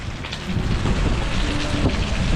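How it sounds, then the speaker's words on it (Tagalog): Heavy rain pouring steadily during a blackout, a dense, loud, continuous hiss of drops drumming on surfaces with no gaps across the whole stretch. "Ang lakas ng ulan."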